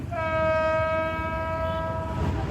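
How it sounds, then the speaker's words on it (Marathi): A single loud vehicle horn blast sounds close by as one sustained, steady tone lasting about two seconds over low background rumble. "तिकडे थांबली, हॉर्न करते ती, काबर करते हॉर्न"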